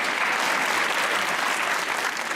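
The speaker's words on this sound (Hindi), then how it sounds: "तालियां होनी चाहिए" Steady, dense applause from a studio audience at a Pakistani comedy talk show, loud and continuous for a couple of seconds with no talk over it.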